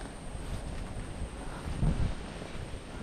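Strong wind blows across open rice fields, a loud continuous buffeting roar hitting the microphone with gusts swelling and easing, no voices.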